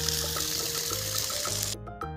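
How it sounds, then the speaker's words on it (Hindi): Water gushes steadily from a hose pipe onto plants in a village garden during hot weather, a loud continuous splashing hiss that cuts off abruptly near the end and resumes briefly. "अभी हम लोग थोड़ा इसको पानी दे देते हैं।"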